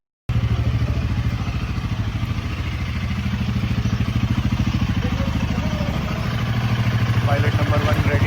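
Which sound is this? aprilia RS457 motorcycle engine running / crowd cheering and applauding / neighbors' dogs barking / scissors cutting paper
aprilia RS457 motorcycle engine running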